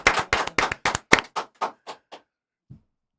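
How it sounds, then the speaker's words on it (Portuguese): Clapping for Joel Santana during a football podcast: about ten crisp, evenly spaced claps close to the microphone, growing softer before stopping, followed by one faint low thump. "E uma salva de palmas para o Papai Joel Santana."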